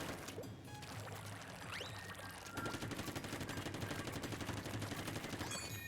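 Rapid weapon fire from Splatoon 3 while strafing, a dense, steady stream of shots that grows louder and more continuous in the second half, with no talking.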